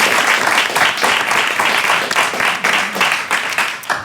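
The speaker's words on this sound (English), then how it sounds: "round of applause for both teams" A studio audience at a comedy quiz show claps for both competing teams, a loud, close burst of applause that rises and falls in uneven surges throughout.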